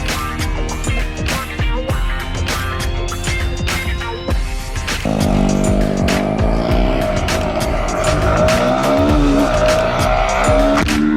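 Yamaha R125 motorcycle with its stock exhaust, engine droning and revving loudly nearby, the pitch shifting partway through as it climbs and holds higher revs, with no talk over it.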